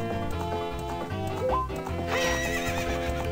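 A horse whinnies in Zelda: Ocarina of Time over a busy game soundtrack of steady music and hoof clatter, the neigh rising clearly near the middle.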